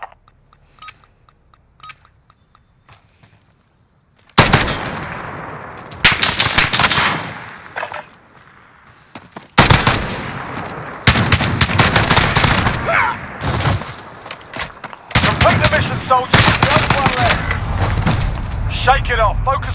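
After a near-silent start, loud bursts of rapid gunfire ring out in several separate volleys with short gaps between them, and voices can be heard around the shooting.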